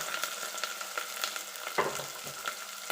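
Onions, green chilies and curry leaves sauté in a pan for a Hyderabadi chicken gravy, a soft steady sizzle with light stirring scrapes and one brief louder clack.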